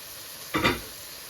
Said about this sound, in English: It is sizzling away.